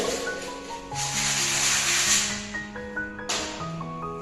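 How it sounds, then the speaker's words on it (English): Sandpaper rubbing over a dried nail-hole patch on a painted wall, a close continuous scratchy swish with a brief pause before resuming. "Sand it."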